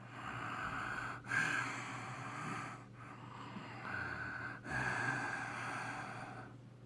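A voice imitates the heavy breathing of an unseen intruder: slow, drawn-out breaths with sharp gasping inhales, quiet and close, in a hushed room.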